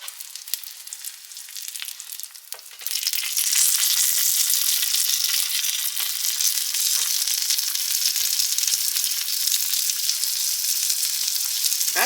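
Breakfast sausage fries in a pan with a quieter crackle at first, then jumps to a loud, dense, continuous sizzle that holds steady at close range.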